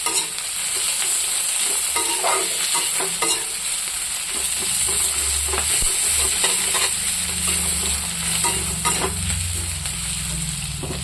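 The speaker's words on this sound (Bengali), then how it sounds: "পেঁয়াজটা একটু লাল লাল করে ভাজবো। আর এইখানে দিচ্ছি এই যে কাঁচা লঙ্কা" Onion and green chilli frying in a pan, a continuous close sizzle with steady spatter, stirred by a utensil that scrapes and knocks now and then, with no voices over it.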